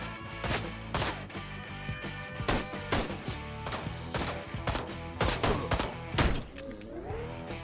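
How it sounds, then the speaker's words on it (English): Gunfire aimed at a building in the video game Ride to Hell: Retribution: loud, close bursts of sharp shots in irregular clusters, with short pauses between volleys and a final heavy burst before it tails off. "They're shooting the building."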